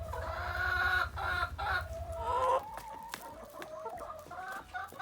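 Hens cluck and chatter steadily inside a chicken house, several birds close by with layered calls over a low rhythmic hum and occasional scratching ticks.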